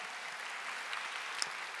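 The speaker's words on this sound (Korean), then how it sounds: "오늘 저에게 박수를 보내신 분들" A seminar audience claps steadily, a dense, even wash of applause with no voices over it.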